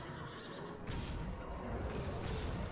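A horse whinnies in the Heroes of the Storm video game, a short bright neigh rising midway over faint background game noise, with a second softer burst near the end.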